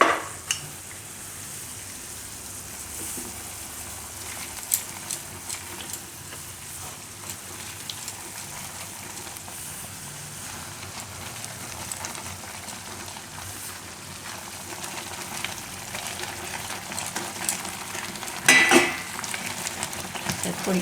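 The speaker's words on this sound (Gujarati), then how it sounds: "હવે આપણે આમાં ધીરે ધીરે સૂજી નાખતા જાઉં ને મિક્સ કરતા જાઉં." Semolina being stirred into boiling water with cooked corn for corn upma, a steady soft bubbling and hiss with faint scraping from the spoon, close and even, building to a louder stir near the end.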